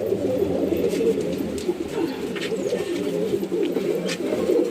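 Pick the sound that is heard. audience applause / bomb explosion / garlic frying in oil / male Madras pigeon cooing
male Madras pigeon cooing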